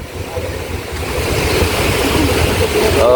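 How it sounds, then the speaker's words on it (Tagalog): Strong sea waves crashing and surging along a shore, a loud continuous roar of surf swelling steadily louder, with wind buffeting the microphone. "Grabe ang dagat. Lakas ng alon dito."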